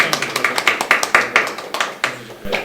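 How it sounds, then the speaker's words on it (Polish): A small group at a hospital press conference in Wysokie Mazowieckie claps in a quick, even rhythm, with distinct close-sounding claps that continue for a couple of seconds before thinning out. "więc proszę o brawa."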